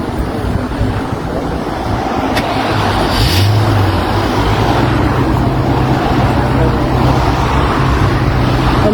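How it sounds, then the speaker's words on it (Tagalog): Cars speeding past on a road, a loud continuous roar of traffic and tire noise with wind-like rushing, one vehicle swelling briefly nearby. "Ang bibilis ng sasakyan."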